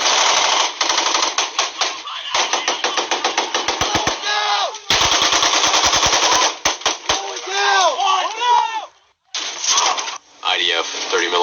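In combat, machine guns fire long rapid bursts while 30mm grenades strike inside a compound. Loud close volleys alternate with brief gaps, and shouted voices break in near the end.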